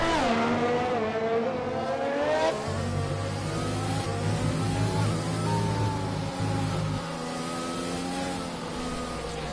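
Formula One cars in the racing game F1 2020 at Hungary scream past one after another, high revving engines rising and falling in pitch as they sweep by close and loud.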